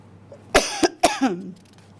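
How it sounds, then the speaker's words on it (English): Two sharp, close coughs in quick succession, followed by a short throaty rasp, then quiet. "Sorry, I'm coughing"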